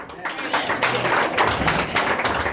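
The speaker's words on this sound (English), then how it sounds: "give it up for a round of applause for my friend" A comedy show crowd applauds the comedian Mike Blackstock with a dense burst of clapping at moderate distance, and voices are heard over it.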